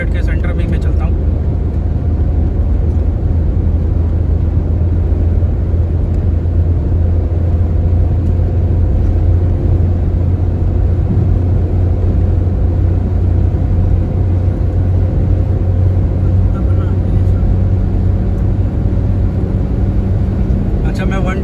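Steady low road rumble and tyre drone from a car cruising at around 110 km/h on a smooth highway, continuous and fairly loud for the whole stretch, with someone talking over it.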